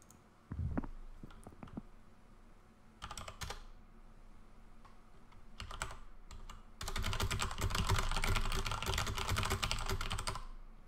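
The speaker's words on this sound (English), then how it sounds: "Dude, this is like normal typing sounds." Fast typing on a computer keyboard, close and clear. Scattered bursts of keystrokes build into a long, dense run of rapid clattering keys, with no talk.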